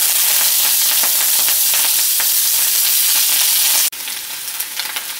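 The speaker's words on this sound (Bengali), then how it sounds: "প্রথমেই আমি পেঁয়াজকালিটাকে ভেজে নিচ্ছি।" Spring onion stalks fry in hot mustard oil in a pan, giving a loud, steady sizzle with crackling pops, then an abrupt cut to a slightly quieter sizzle.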